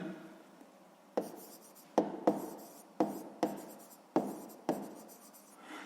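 A pen writes on paper in a series of short, close strokes, each starting with a tap of the nib followed by a brief scratchy scrawl.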